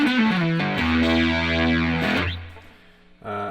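Heavily distorted electric guitar played through a 1981 distortion pedal with reverb, sustained chords, loud and saturated with a brief drop before a final strummed chord.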